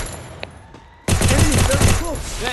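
Rapid gunfire bursts erupt in a shooter video game, loud and close, after a quieter lead-in with a few faint clicks, then sustained rattling shots with brief whooshing effects.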